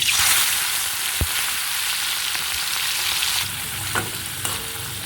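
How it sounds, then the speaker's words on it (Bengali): Prawns coated in salt and turmeric fry in hot oil for a Bengali prawn malai curry, giving a loud, dense, continuous sizzle that stays close and fairly even, with a single stirring knock. "নুন হলুদ দিয়ে মেখে রাখা চিংড়ি মাছগুলো অল্প অল্প করে আমি ভেজে নেবো"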